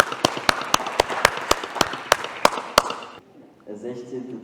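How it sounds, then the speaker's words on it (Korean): A congregation at a Korean church's Sunday service in Berlin claps in quick, even unison beats for about three seconds, then stops abruptly, and a voice begins speaking afterward. "자, 박수."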